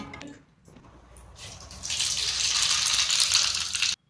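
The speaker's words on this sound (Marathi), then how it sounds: "कढईमध्ये गरम तेलात आपण मोहरी टाकूया" Mustard seeds dropped into hot oil in a kadhai: after a brief quiet start, a loud, steady crackling sizzle builds and holds until it stops abruptly, with no voices.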